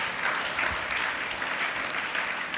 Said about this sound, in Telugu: ఒక్కసారి చప్పట్లు కొట్టి ప్రభువుని మహిమపరుస్తారా?